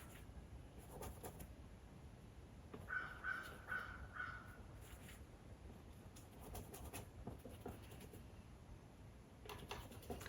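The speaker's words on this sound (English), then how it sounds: "You can hear the birds out there." Crows caw a few times outside an open studio door on a warm day, faint and distant against quiet room background with scattered light knocks.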